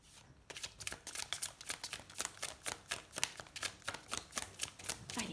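Oracle cards riffle and shuffle in a rapid, even run of crisp papery flicks, close and fairly loud with no talk, as a cross-shaped reading is laid out.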